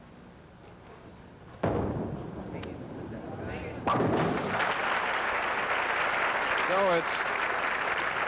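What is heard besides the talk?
bowling crowd cheering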